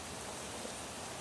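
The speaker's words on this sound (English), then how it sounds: "This rain will make the tree grow." Steady rain falling outdoors in Britain during setup of a Christmas light show, a soft continuous hiss of drops on surfaces, fairly faint and even, with no voices.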